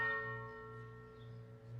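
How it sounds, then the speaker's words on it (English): A single church bell tolls as a knell in a performance of Macbeth, a struck tone with a bright attack that slowly decays over about two seconds, sounding alone and fairly faint. "The bell invites me."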